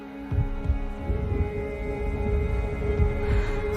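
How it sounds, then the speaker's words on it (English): Low, throbbing heartbeat thuds repeat steadily under a dark, sustained hum in an Xbox Series X game trailer, with no voices. "The heartbeat of the lost ones."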